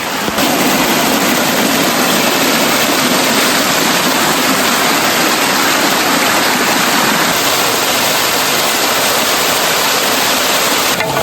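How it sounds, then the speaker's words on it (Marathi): Heavy rain pouring outdoors in the Konkan countryside, a loud, dense and unbroken roar of falling water close by that stays constant throughout, with no voices. "पाऊस आला परत"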